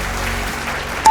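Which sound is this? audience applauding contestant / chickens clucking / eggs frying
audience applauding contestant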